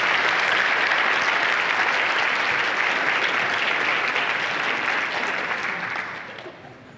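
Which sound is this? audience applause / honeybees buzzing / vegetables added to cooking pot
audience applause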